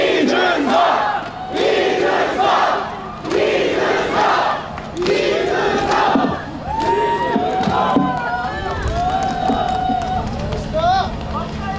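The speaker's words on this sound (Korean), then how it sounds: "여러분 그 박수와 함성" A crowd at an election rally erupts in loud cheering and shouts, with rhythmic chanting and applause blending into a continuous roar, and amplified voices rising through it.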